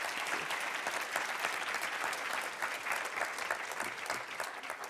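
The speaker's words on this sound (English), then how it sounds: "Can we have a round of applause, please," Audience at a European research and innovation showcase event applauds panelists, a dense, steady round of clapping throughout, fairly distant and even.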